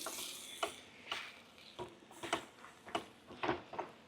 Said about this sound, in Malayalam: ചിക്കൻ നന്നായി വഴറ്റണം